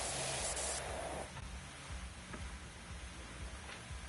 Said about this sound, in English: Looks like we're doing a decent job of just spraying.